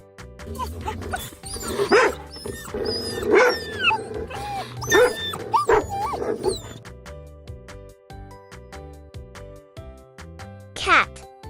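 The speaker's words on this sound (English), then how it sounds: "Dog," A dog barking and yelping in several loud, close bursts over a background of other animal sounds, ending with a single sharp bark after a short lull.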